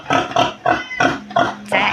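Pigs on a farm piggery at feeding time, grunting and oinking in a quick series of loud, close squealing calls, about five bursts with brief gaps between them.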